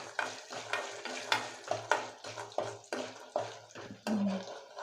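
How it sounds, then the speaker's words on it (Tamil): Dried turkey berries (sundakkai vathal) frying in oil for a Chettinad kara kuzhambu, stirred in a rhythmic series of soft scraping strokes over a quiet sizzle, close and fairly faint. "இது கூட கொஞ்சம் அந்த வத்தல் சுண்டைக்கடலை இருக்குது, அதையும் பொரிச்சு எடுத்துக்கோங்க"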